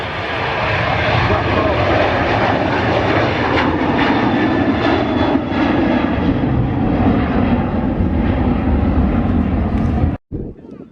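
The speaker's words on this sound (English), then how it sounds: "Ryanair 737's departure," A Ryanair Boeing 737 departs Manchester Airport, its jet engines roaring loud and continuous with a broad rumble for the whole stretch before cutting off abruptly near the end.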